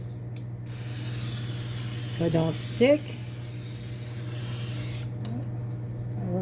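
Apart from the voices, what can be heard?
cooking spray sprayed onto a baking pan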